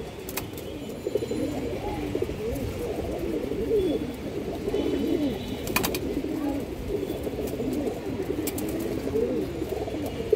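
Several pigeons in a loft, one of them a red-blooded pangkhi-type bird, give low rolling coos that overlap continuously at close range, with a few faint clicks and rustles mixed in.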